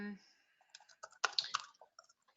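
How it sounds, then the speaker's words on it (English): Sharp, scattered mouse or keyboard clicks come through during an online webinar, in short irregular bursts after a brief bit of voice at the start. "I can hear the clicking"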